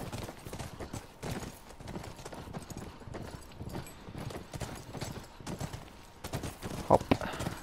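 Rapid rhythmic hoofbeats drum steadily throughout, a horse galloping on hard ground, with a brief snort or whinny near the end, from the video game The Last of Us Remastered.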